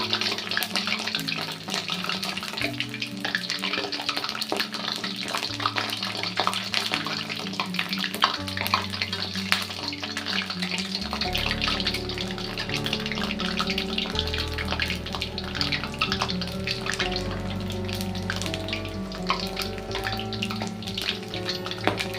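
Onion fritters sizzle in hot oil with a constant close crackle and bubbling hiss. Faint utensil knocks break in as the fritters are turned over.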